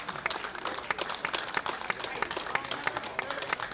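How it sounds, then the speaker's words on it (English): A crowd applauds both men's water polo teams after a premier league final, many hands clapping in a steady, crackling wash with sharper individual claps standing out, a voice speaking over it. "big round of applause, warm round of applause for both teams"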